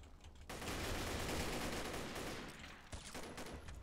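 Sustained burst of gunfire in the video game Combat Arms: Reloaded, a loud dense stream of rapid shots that briefly drops out and then resumes.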